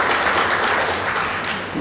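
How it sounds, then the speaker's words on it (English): A seated audience at a members' session applauds steadily, a dense, even wash of many hands clapping throughout. "you should applaud yourselves"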